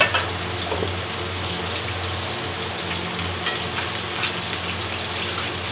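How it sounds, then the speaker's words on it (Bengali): Rohu fish pieces frying in a pan of oil, a steady loud sizzle with faint crackles running unbroken throughout. "অন্য সাইড আমি ঘুরিয়ে ভেজে নিচ্ছি ভালো করে মাছ।"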